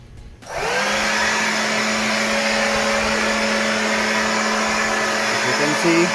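A Ryobi One+ 18V OBL1820S cordless leaf blower switches on with a quick spin-up, then holds a loud, steady whine and rushing airflow close by, with no voices over it.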